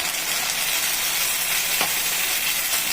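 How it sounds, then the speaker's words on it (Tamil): Ground tomato purée sautéing in oil in a pan, with a steady loud sizzle and a faint scrape of stirring, close and unbroken. "இப்போ நம்ம அரைச்சி வச்சுருக்கிற மூணு தக்காளி அதை ஊற்றிக்கலாம்"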